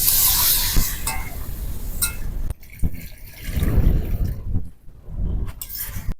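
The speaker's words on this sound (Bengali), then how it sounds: "এবার আমি জল ঢেলে দেব" Water is poured into a cooking pan over fried, spiced potatoes, giving a splashing, sputtering rush that breaks off and then returns in shorter gurgling bursts.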